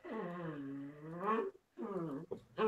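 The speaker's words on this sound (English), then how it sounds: "Oh, it's that noise in the background. That's the dog." A dog whines in long, drawn-out tones that rise and fall, two sustained whimpers followed by a short third one, close by.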